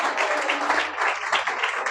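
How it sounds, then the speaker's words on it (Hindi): Church congregation in Pakistan breaking into applause, a dense wash of clapping from many hands that runs steadily throughout, with a faint voice beneath. "चलो खुदावंद ली जोरदार तालियां बजा दो सारे"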